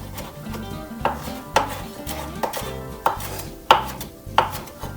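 Knife chopping parsley into small pieces for Turkish köfte meatballs, a string of sharp, close board taps at an uneven rhythm, with faint kitchen clatter between strokes and no talking.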